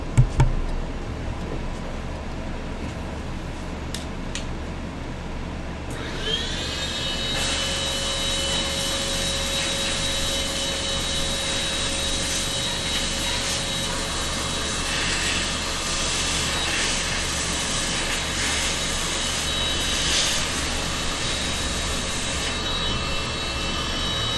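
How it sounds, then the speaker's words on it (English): A loud vacuum cleaner blowing dust out of a GTX 1070 Ti graphics card cooler roars steadily for most of the clip, starting abruptly after a few seconds of quieter hum and running continuously with a high whine. "I'm going to give this thing a quick blow through off of a vacuum cleaner"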